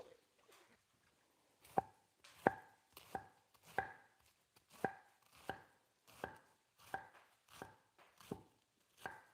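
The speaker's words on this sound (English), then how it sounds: "I'm going to go ahead and chop up a tomato." A knife chops a tomato on a cutting board: about a dozen crisp, close taps in a steady, unhurried rhythm after a short pause, with no other sound between strokes.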